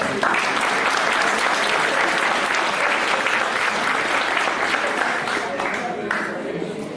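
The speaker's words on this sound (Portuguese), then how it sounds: "Uma salva de palmas para nós." A workshop audience breaks into sustained, dense applause, steady and loud for several seconds before easing off slightly near the end, with some voices mixed into the clapping.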